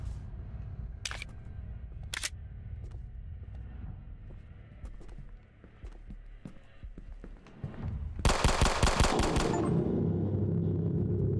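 A burst of rapid gunfire in the video game Harthorn, loud and dense near the end, preceded by a couple of sharp isolated shots over low ambient rumble.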